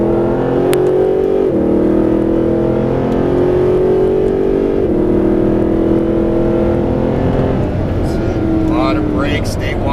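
A Mercedes SLS AMG engine pulls hard through a corner, a loud steady drone that rises in pitch as it accelerates, with someone talking over it.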